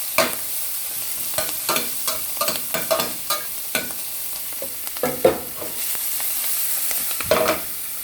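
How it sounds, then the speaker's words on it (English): Bok choy and kale stir-fried Chinese style in hot oil over high heat, with a steady sizzle broken by repeated scraping and clanking stirs from near the mic. "This is a stir fry"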